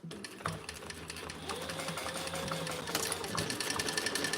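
A sewing machine stitches steadily and fairly quietly, with a rapid mechanical patter and clicks. The motor hum builds slightly toward the end.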